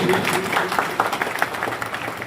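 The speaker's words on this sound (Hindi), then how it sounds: "तो एक बार जोरदार तालियों से पूरे मंच का स्वागत करेंगे" Audience applause at a prize ceremony honouring top exam scorers, a sustained crowd clapping with uneven bursts and murmured voices beneath.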